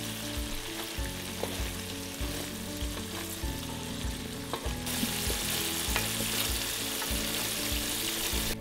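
Coconut milk fries in a pan into latik topping, giving a continuous dense sizzle and bubbling crackle with stirring scrapes, growing brighter and louder partway through.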